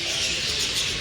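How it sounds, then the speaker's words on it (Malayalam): A dense flock of birds chirps and twitters nonstop at the Thanjavur temple, a bright, continuous wash of calls with no voices. "ഇവിടെ ഇത്രയും കിളിയുണ്ടേ"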